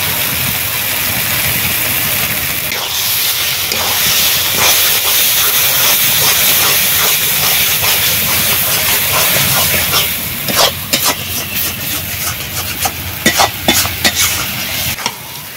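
Taro leaves frying in a pan with slit green chillies and ground roasted spices, a steady loud sizzle and hiss with scattered crackles and spatters, growing more irregular toward the end.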